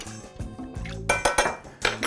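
Spoons and dishes clink and clatter in a kitchen while water, salt and sugar are measured for canning cucumbers, a quick run of light metallic taps and knocks close by.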